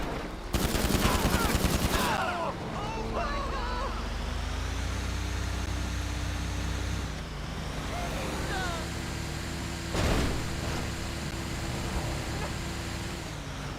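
Gunfire in GTA 5 Online, a loud rapid burst of automatic shots near the start followed by a single sharp shot later, over engine and traffic noise with someone talking.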